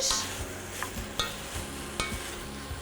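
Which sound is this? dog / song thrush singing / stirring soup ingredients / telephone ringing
stirring soup ingredients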